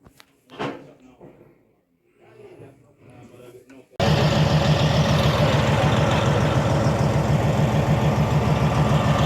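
A Cat D10R bulldozer's engine roars steadily and loudly from close by, a constant heavy diesel drone, after a few seconds of quieter talk and clatter.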